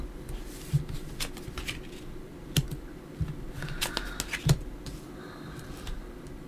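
Tarot cards handled and shuffled at close range, soft papery riffles and a series of sharp clicking taps at irregular intervals over a quiet background, no talking.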